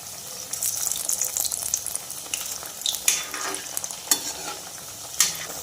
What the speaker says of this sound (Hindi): मेथी के बड़े को मीडियम गैस पे ही फ्राई करेंगे